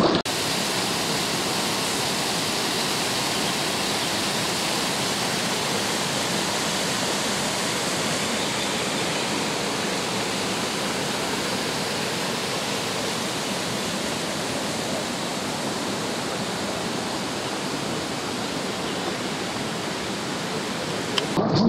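The Besorgues river rushes continuously, a broad steady roar of flowing water close by, with no voices over it.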